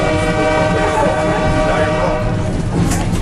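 Train running on rails at the Oakfield railroad museum in Aroostook, Maine: a steady, loud rumble with tonal horn-like harmonics held throughout, brightening toward the end, with no voices over it.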